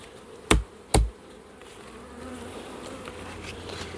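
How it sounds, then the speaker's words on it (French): Two sharp knocks on a wooden hive frame cover in quick succession, followed by a low, continuous buzzing of honeybees close by as they settle down into the hive. "on tape les abeilles"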